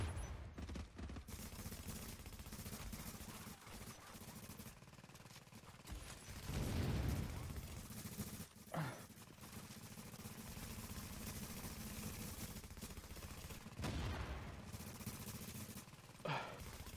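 Gunfire in a video game crackles in bursts, with heavier shots around the middle and near the end under steady background rumble, with occasional voices.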